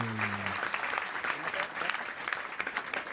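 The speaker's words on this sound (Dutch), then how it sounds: "Nog even een applaus voor mannen die bier maken" Applause from a crowd at a public event in Leeuwarden, honoring beer brewers, with dense, irregular clapping, moderately loud, a brief tonal note at the start fading into the steady clatter.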